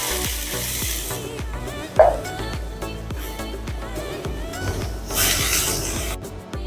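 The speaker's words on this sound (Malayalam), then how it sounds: "അപ്പോൾ നമുക്ക് ഉള്ളി ഒരു ബ്രൗൺ ഷെയ്ഡ് ആവുന്നത് വരെ നമുക്ക് നല്ലതുപോലെ വഴറ്റിയെടുക്കാം" Two large chopped onions sautéing in about three spoons of hot coconut oil for Kerala-style macaroni, a steady close sizzle with regular rhythmic stirring knocks against the pan.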